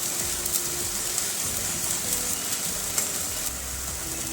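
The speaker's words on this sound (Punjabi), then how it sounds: "ਪਿਆਜ਼ਾਂ ਨੂੰ ਆਪਾਂ ਭੁੰਨ ਲਵਾਂਗੇ ਦੋ ਕਿੰਨੇ ਮਿੰਟ ਵਾਸਤੇ ਆਪਾਂ ਪਿਆਜ਼ ਚੰਗੀ ਤਰ੍ਹਾਂ ਭੁੰਨ ਲਵਾਂਗੇ" Onions fry in a pan, a steady, close sizzle and crackle that stays even throughout with faint scattered pops and no voices.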